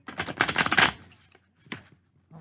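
A rapid, loud riffle shuffle of tarot cards, followed by a shorter riffle and a brief tap at the end.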